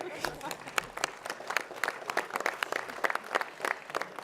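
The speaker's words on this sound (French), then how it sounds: "ça mérite des applaudissements ?" An audience at a New Year's wishes ceremony in France breaks into loose, uneven clapping, a scattered patter of hands that rises and falls, with a voice speaking over it.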